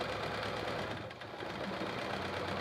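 A sewing machine doing free motion quilting with short stitch length, a rapid, even mechanical chatter that runs steadily at low level, with no voices.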